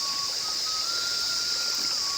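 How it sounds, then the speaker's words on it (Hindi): Water trickling steadily at a naula, a traditional stone spring, beside a hillside village path, a continuous soft wash of flow with faint birdsong and no talk. "यहाँ पे एक नौला भी है।"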